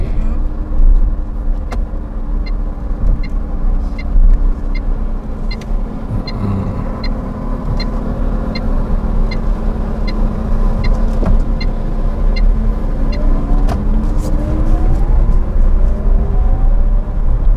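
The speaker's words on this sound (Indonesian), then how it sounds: "ini suara dinamo nih, bukan dari speaker gitu ya." An electric motor whines steadily inside a moving VinFast mini electric car, with a faint rising and falling tone over a low road rumble and faint rhythmic ticking.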